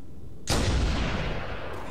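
A single loud weapon blast rings out in the Halo: Combat Evolved Anniversary video game as a shot is fired at a shade turret, with a sharp onset and a long, booming decay.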